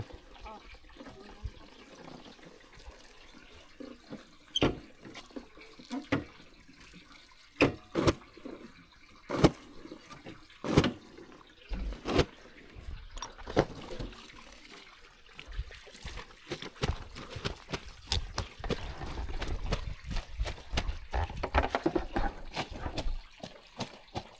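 Water running at a hillside spot in Majhi Para, a border village by Mizoram where people fetch water in pitchers, fed from a hill source or a motor pump; a steady trickling flow broken by scattered sharp knocks and splashes.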